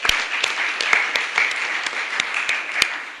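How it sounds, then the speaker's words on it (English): Sparse, scattered hand claps from a small press-conference audience in San Diego sound as a round of applause. The individual claps are distinct and crisp, spaced irregularly over a few seconds, with no speech over them. "So give yourselves a round of applause for everything that San Diego stands for."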